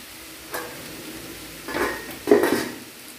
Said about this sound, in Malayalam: ഇപ്പം നല്ലപോലെ ഒന്ന് ഇളക്കി യോജിപ്പിക്കാം.